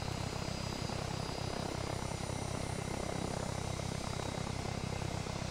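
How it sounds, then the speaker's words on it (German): A helicopter in a video game, its rotor and engine drone steady and loud throughout with a continuous whirring beat and no talking. "Hubschrauber Einsatz."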